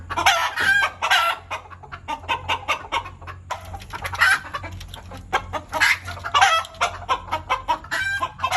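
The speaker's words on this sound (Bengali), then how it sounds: "এক শক্ত সমর্থ মোরগ আর তার সাথে ছিল তিনটা রানী মানে তিনটা মুরগি" A Malaysian jungle-breed rooster and his three hens cluck busily at close range, with repeated loud crowing bursts mixed into the steady chatter of the flock.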